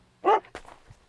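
Dog in the Pumping Simulator 2 video game giving a single short, close bark, followed by a couple of faint soft footfall-like taps.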